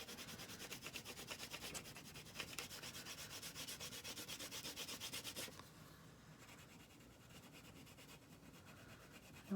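Green crayon rubs steadily across paper while colouring in ground beneath a drawn cow, a soft, close, continuous scratchy stroking that eases off halfway through and carries on more quietly.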